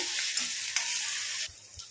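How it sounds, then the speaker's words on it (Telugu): Ginger garlic paste frying in a pan for a bitter gourd gravy, a loud continuous hiss of sizzling oil with a few brief stirring scrapes near the end. "కొద్దిగా అల్లం వెల్లుల్లి ఈ పేస్ట్ని అయితే మంచిగా వేయించుకున్నాము"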